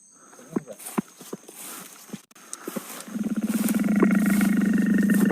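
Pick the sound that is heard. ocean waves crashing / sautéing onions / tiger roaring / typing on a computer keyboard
tiger roaring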